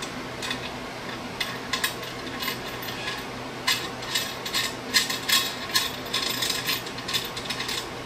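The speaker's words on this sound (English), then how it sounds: "Put the washers and the nuts on." Steel washers and nuts are fitted and hand-turned onto bolts of a guillotine shear, giving a run of small metallic clicks and ratcheting ticks in uneven bursts, close and moderately loud with no talk.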